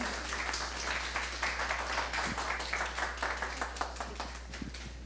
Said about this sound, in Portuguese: Palmas para as meninas.